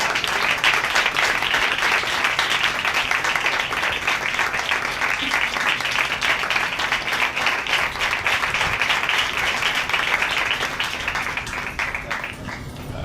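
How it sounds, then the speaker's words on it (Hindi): A church audience claps loudly and continuously, a dense, even wash of applause that holds steady and fades slightly at the very end. "ज़ोरदार तालियां बजाएं खुदा के खादिम के लिए"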